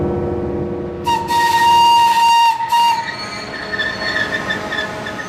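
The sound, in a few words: vintage train arriving at platform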